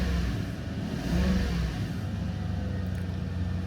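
A 1997 Toyota Celsior V8 gets a light rev of the throttle, the engine's low rumble swelling briefly and then falling back to a steady idle, heard close and without voices.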